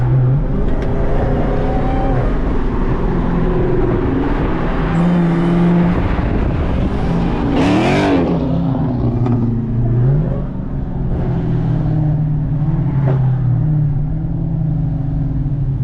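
A modified Dodge Charger Hellcat with a loud, sustained engine roar that rises and falls through repeated revs, pitch sweeping up and down, close and continuous for the whole stretch, with no voices.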